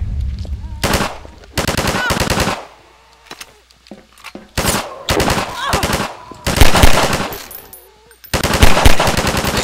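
Combine soldiers fire automatic weapons at zombies in Garry's Mod, loud rapid bursts of gunfire repeating in several volleys separated by short quiet gaps.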